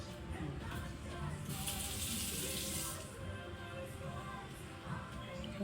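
Tap water runs into a kitchen sink while onions are rinsed for a Chinese dish, a steady close rush that briefly swells louder and brighter mid-way.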